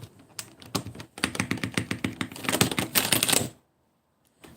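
Someone types fast on a computer keyboard, close and loud, with a dense clatter of key taps that speeds up and grows busier for about three and a half seconds. Then it stops suddenly and near silence follows.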